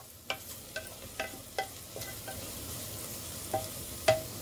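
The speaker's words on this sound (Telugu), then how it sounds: "చూడండి, ఆనియన్స్ బాగా మగ్గిపోయినాయి." Onions softening with salt in a pan for tamarind-leaf mutton curry, a low steady sizzle broken by about nine sharp spatula scrapes and stirs at irregular intervals, close and fairly quiet.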